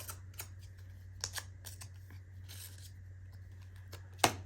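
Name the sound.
cutting into paper to distress the edges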